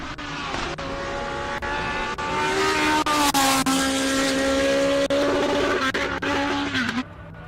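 Franco Scribante's classic race car climbs a hill at the SIMOLA Hillclimb, its engine screaming loud and close at high revs, pitch rising through gears with brief lifts before cutting off near the rev limiter.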